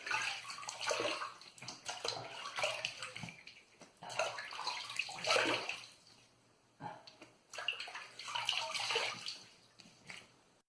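Tap water runs and splashes in uneven bursts while a face is rinsed after a wet shave, close by but fairly quiet, with short pauses between pours and no talking.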